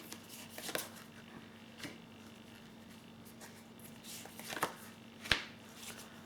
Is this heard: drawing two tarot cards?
yes